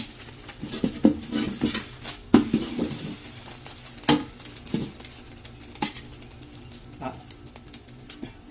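An egg fries in a pan while it is stirred, with a soft sizzle under irregular scraping and clinks of a utensil against the pan, close up and with no speech.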